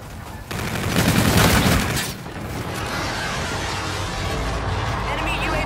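A gun run airstrike in Infinite Warfare unleashes a loud, sustained burst of heavy rapid gunfire that swells for about two seconds, then fades into a lingering rumble of battle noise.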